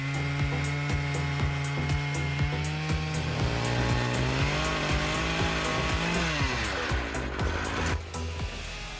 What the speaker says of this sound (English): oak is sawn using an Arbortex saw, a new type of chainsaw, which is much thinner, creating less sawdust